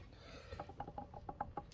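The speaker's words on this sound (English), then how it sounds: "now we can get our clutch basket back on" A clutch basket is fitted onto a 1998 Yamaha Warrior 350 engine, making a quiet, quick series of light metallic clicks and ratcheting taps as it seats, with no talking.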